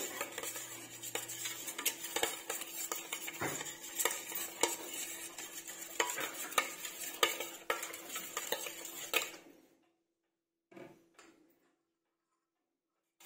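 A spoon mixes masoor dahi vada ingredients in a bowl, with rhythmic clinks and scrapes close by for about ten seconds before it goes almost silent, broken by one last soft knock.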